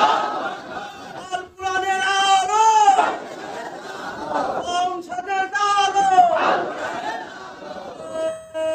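A rally crowd shouting takbir together, loud massed voices rising in long chanted calls in two waves, with a single amplified voice leading between them.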